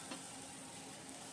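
Ground turmeric, coriander and red chilli powder being sautéed in a pan for an egg and potato chorchori, giving a steady, quiet frying hiss throughout with no voices.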